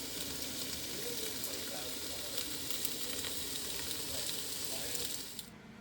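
A raw tortilla cooking in a hot pan gives a steady, close sizzle with faint crackles throughout, then quickly dies away at the very end.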